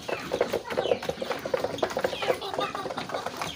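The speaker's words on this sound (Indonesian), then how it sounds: "Wah, keseruan saat memberi makan ayam." Bangkok chickens cluck in a busy, overlapping chorus while being fed, close by, with short repeated calls and some rustling and faint voices underneath.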